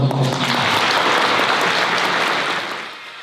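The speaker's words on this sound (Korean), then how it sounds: "박수 한번" A wedding crowd applauds warmly after the vows, a dense patter of many hands clapping at once that gradually thins and fades toward the end.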